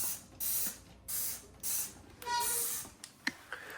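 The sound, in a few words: spraying Dawn dish soap liquid under washer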